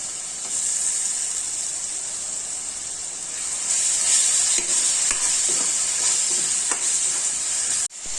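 Garlic ginger paste fries with onions in a hot pan for a pork and bamboo shoot dish, a steady loud sizzle and hiss that grows fuller midway, with occasional stirring scrapes.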